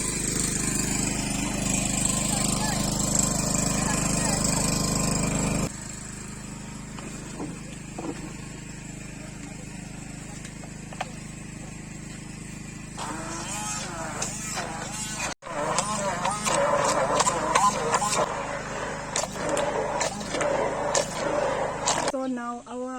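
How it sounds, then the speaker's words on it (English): A blender runs on power from a generator wired through an extension cord at an outdoor village cooking setup, a steady motor whir that shifts in tone partway through, with intermittent clatter and voices talking over it. "We are bringing it here so that we can blend using the generator."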